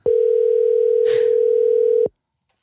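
A phone call's single long, steady electronic tone plays for about two seconds with a brief noisy rustle in the middle, then cuts off abruptly into silence as the call heads to voicemail.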